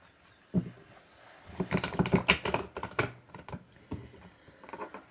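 Tarot cards shuffled by hand in a quiet room, giving one sharp riffle snap and then a dense run of quick papery clicks and flutters that trail off into a few lighter slaps near the end.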